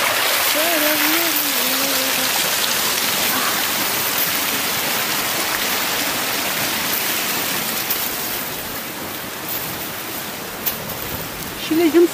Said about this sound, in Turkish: Şöyle bir şelale buldu.